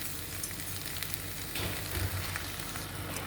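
Sauce poured into a hot wok of fried eggplant for Japanese-style eggplant, a loud steady sizzle and bubbling hiss that swells louder midway as the liquid hits the pan.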